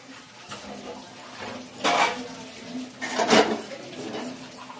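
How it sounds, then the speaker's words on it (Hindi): Gas stove grates and dishes being scrubbed and washed in a kitchen sink, with a few clattering knocks and scraping bursts over a steady running-water hiss, close and moderately loud. "और ये मैं गैस की जालियों को सबको बर्तन मांझे यहाँ पर लिए, और ऐसे हम सिंक में डाल दूंगी"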